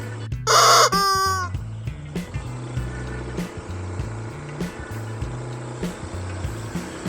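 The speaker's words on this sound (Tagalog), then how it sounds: "May mga manok" Chickens near a church, one loud rooster crow up close at the start, then rhythmic low clucking and soft bird calls continuing steadily, with no talking.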